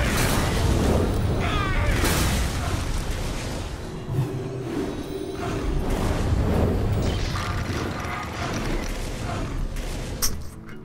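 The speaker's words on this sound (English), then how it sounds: "might as well enjoy the fireworks" Fireworks in the Hearthstone video game, a run of booming bursts and crackling pops that rise and fall over several seconds, fairly loud and dense, ending with a sharp final crack.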